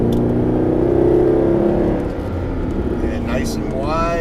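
A Mercedes SLS AMG engine holds a steady loud drone and then rises in pitch as the throttle opens, with a voice speaking over it near the end.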